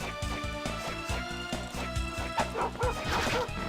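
A dog soul in Castlevania Dawn of Sorrow barks in a quick, regular series while smashing through a breakable floor, the repeated sharp hits and yaps sitting over steady game music.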